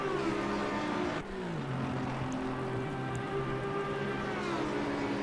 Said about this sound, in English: And the rain is increasing.